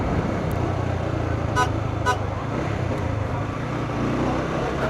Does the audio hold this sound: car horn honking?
yes